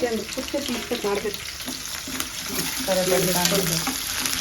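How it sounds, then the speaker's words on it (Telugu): Onions and fresh curry leaves frying in a pan for a ridge gourd masala curry, a steady sizzle with crackling pops and stirring scrapes, close by, with faint talk underneath. "సో చూడండి ఇది వేగడానికి ఒక టూ మినిట్స్ పడుతుంది"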